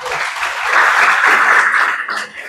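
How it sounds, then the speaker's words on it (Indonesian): Audience applause at an Islamic lecture event for a university pesantren program, sustained crowd clapping that swells in the middle and thins toward the end, with no speech over it. "Kita berikan aplaus"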